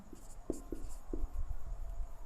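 Chalk or marker strokes on a classroom board come as a few short scratchy taps and squeaks, close and moderately faint, with no voices over them.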